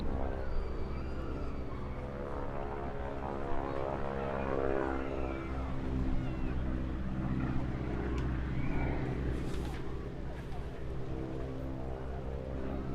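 Propeller aircraft crossing over in formation at a seaside airshow, a loud sustained droning engine roar that swells and shifts in pitch as the planes pass close by, with no talk.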